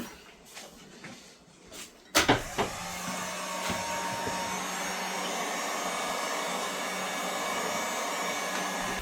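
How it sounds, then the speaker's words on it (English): A heat gun warms a Volvo 240 light, starting with a few handling clunks and then settling into a steady, close, continuous blowing whir that holds evenly to the end. "I'm just going to warm it up with the heat gun though"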